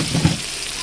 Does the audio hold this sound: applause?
no